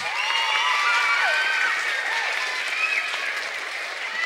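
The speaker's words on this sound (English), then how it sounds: "Give yourselves a big round of applause." Children and adults in an audience at a magic show clap steadily after a trick, with excited shouts and high voices rising over the applause.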